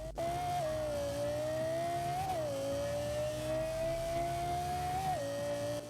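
Lexus LFA engine revving in Forza Horizon 4, a steady high-pitched wail held near and loud, with two brief rises in pitch as the revs climb, no talk over it.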